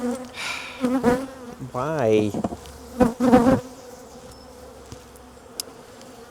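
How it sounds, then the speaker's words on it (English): Angry honeybees swarm around an open hive, buzzing loudly in wavering whines close to the ear, while a person speaks briefly over the drone. "I'm getting battered by these bloody bees over there now."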